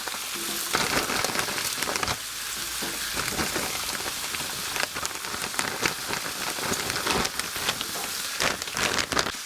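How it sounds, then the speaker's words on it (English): Sausages sizzle steadily on a Blackstone flat-top griddle, a dense close crackle of hot fat with frequent sharp pops running throughout, with no talking. "Go ahead and add our sausages down here."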